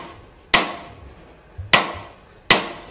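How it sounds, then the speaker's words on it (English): Three sharp, woody clicks of a snare drum side stick struck across the wooden hoop, loud and close with quick decays, spaced unevenly, no talking. "the side stick is real."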